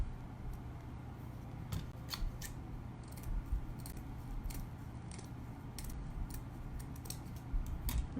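Scissors making a rough cut through material for a handmade Easter bunny, with steady repeated snips close by and no talking.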